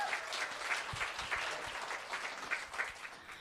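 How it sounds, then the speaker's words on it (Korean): Brief, moderately faint audience applause at a business lecture, a short patter of clapping from a modest crowd with a few louder claps standing out. "박수 치셔야죠."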